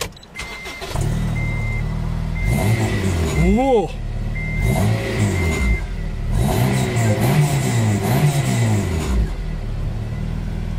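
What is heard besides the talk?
Honda Integra Type R DC5 VTEC engine starting and revving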